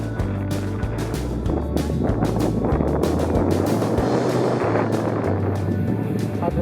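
A Zodiac inflatable boat runs near Garibaldi Glacier in the fiords, its outboard motor droning steadily up close, with wind buffeting the microphone and water rushing beneath the hull.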